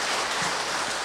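Applause from a parish gathering at a Catholic church in Daejeon, a steady dense patter of many hands filling the room at moderate loudness, with no break across the short stretch.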